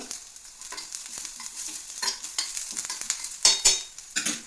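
Curry leaves crackling as they fry in hot oil for chicken gravy, a close, fairly quiet sizzle broken by bursts of sharp popping and spattering, with occasional stirring.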